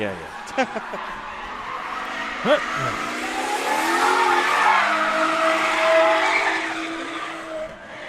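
Drift cars at Sebring skid around the track with a long, loud, continuous tire squeal and roaring engines, sustained for several seconds with no talking.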